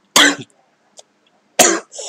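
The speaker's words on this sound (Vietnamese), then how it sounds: "Trời ơi, ho luôn." Two sharp, loud coughs about a second and a half apart, the second trailing into a short throaty follow-up, with a faint tiny click between them and no other sound around.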